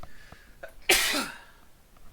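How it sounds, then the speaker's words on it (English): A single sharp sneeze from a man at his desk during a software tutorial, a quick inhaled build-up and then an abrupt burst that fades within half a second, close to the microphone in a quiet room. "I had a little sneeze there"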